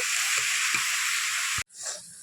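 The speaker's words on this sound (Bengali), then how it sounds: "এবার ভালো করে চাল কুমড়োটা আমি ভেজে নেব।" Ash gourd fries in a pan with a dense, loud hissing sizzle that cuts off abruptly near the end, followed by a quieter, fainter sizzle, with no speech.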